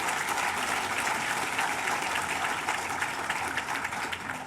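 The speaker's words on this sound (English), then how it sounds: "I think we should clap for that" Steady, dense audience applause filling a luncheon hall at a children's charity event, continuous clapping without speech that eases slightly toward the end.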